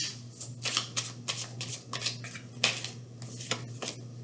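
Tarot cards riffle and slap in quick repeated bursts as a deck is shuffled and cards are drawn, close and crisp over a low steady hum, with no talking.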